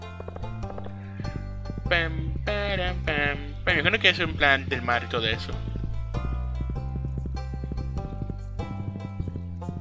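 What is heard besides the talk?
horse hooves clip-clopping in Stardew Valley video game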